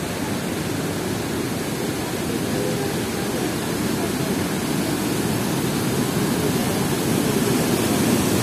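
Kundalshahi waterfall in Neelum Valley, Azad Kashmir, roars as a constant, loud, broadband rush of falling water that holds steady throughout with no breaks or voices.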